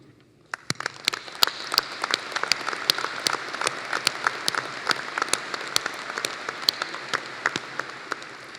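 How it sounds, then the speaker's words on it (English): A graduation audience claps for newly credentialed graduates, a steady crowd applause with many sharp individual claps standing out, sustained and fairly near for several seconds with no talking. "I'd like to applaud you."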